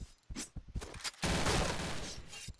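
Gunfire from a weapon in the shooter game Point Blank: a few sharp separate shots, then a loud dense burst of rapid fire lasting over a second, heard alone without talk.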